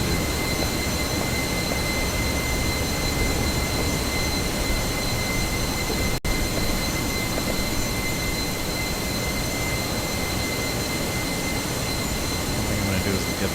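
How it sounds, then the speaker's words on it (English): Steady loud roar of a Fenix A320 jet engine in Microsoft Flight Simulator 2024, with a constant high whine running over dense broadband noise and one brief click partway through, heard close and alone with no talk. "get the heck away from this loud airplane"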